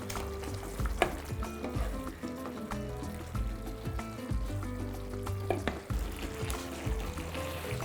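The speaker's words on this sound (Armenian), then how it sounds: "Մսակտորները եւ կարտոֆիլը տեղափոխում ենք տապակվող բաղադրիչների վրա։" Beef pieces and potatoes drop onto frying ingredients for a beef and vegetable sauce, setting off a steady close sizzle with scraping stirs and small crackles throughout.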